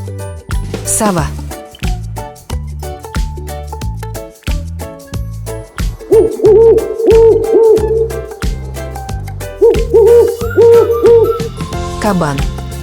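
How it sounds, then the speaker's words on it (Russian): An owl hoots in repeated low, rounded calls set against a busy backing of music, with a sound effect near the start and the hoots strongest across the second half. "Сова."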